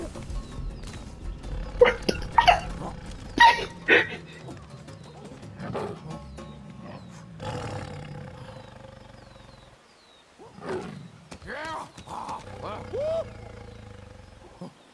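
Sabertooth cats roar in a survival video game, with several loud, growling bursts spread across the scene amid game noise and intermittent talk from a player.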